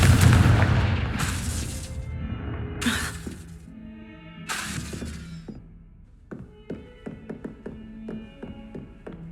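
Confringo blasting spells from Hogwarts Legacy detonate in three loud, separate explosions with shattering crackle, then give way to a scatter of sharp taps and clattering debris as the noise dies down.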